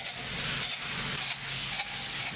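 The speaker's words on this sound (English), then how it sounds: "When the spray foam is applied to the surface, as you'll notice here, it grows and replicates the surface it's sprayed onto." A spray gun applies closed cell spray foam insulation to a door surface inside an airport hangar, making a loud, steady hiss with brief dips. The close spray carries on throughout with no voices.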